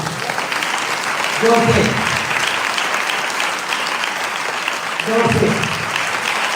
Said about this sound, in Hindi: जोर से ताली बजाओ ईश्वर के लिए